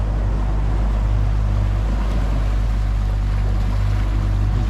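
Steady, loud motorboat engine drone on open water during an overnight marlin fishing trip, a constant low rumble with wind and water wash and no talking.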